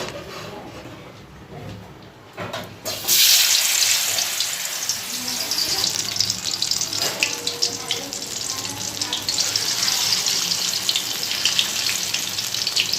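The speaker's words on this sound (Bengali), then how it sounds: "দুটো দুটো করে সবগুলো ভেজে নেব আস্তে আস্তে।" Battered ash gourd fritters fry in hot oil, a steady loud sizzling hiss that swells after a few seconds and carries on continuously, close to the pan.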